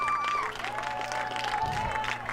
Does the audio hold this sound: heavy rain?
no